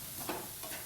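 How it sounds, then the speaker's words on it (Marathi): Pumpkin and cucumber are slowly roasting in a pan over a low flame for barfi, giving a faint, steady sizzle with a soft stirring rustle in one brief stretch. "मंद आचेवर आपल्याला हे भोपळा आणि काकडी भाजायचे आहे"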